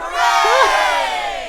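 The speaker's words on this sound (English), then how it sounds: "Have we got the cheer sound effect ready?" A crowd cheering sound effect bursts out loud and close, a sustained roar of voices with whoops and shouts that swells briefly then holds.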